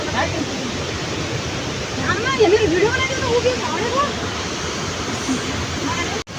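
Water rushes steadily and loudly through a traditional water-powered grain mill on a hillside, a constant broadband roar that lasts the whole stretch, with people talking over it.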